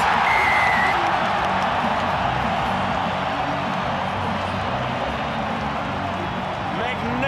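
A big stadium crowd at Loftus Versfeld in Pretoria roars for a successful long-range penalty kick in a 2018 All Blacks versus South Africa rugby test, a dense, sustained wall of cheering throughout.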